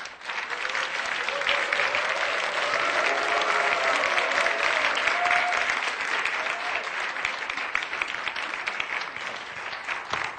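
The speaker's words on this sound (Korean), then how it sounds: "우리 타미 펨나이트 목사님 나오실 때 큰 박수로 환영하겠습니다." Sustained applause from a church audience welcoming pastor Tommy Femrite to the stage at a WLI Korea School public lecture, a dense steady wash of many hands clapping for about ten seconds.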